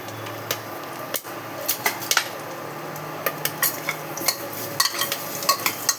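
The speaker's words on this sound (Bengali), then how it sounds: "এই আলুগুলোকে দেবো, দিয়ে একটু নাড়াচাড়া করে দেবো" Cut, washed potatoes are stirred in a pan over a low sizzle, with irregular scraping and sharp clinks of a utensil against the metal, close up, and no voices.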